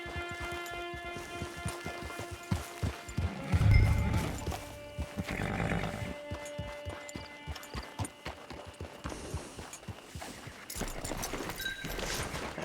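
A horse's hooves clip-clop steadily in Red Dead Redemption 2 Online, with a brief snort or whinny partway through, set against a layered game soundscape of ambient tones and sounds.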